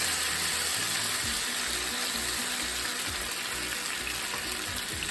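Steak and potatoes sizzle steadily in a casserole pan, a dense, constant crackling hiss close by with no break, no voices.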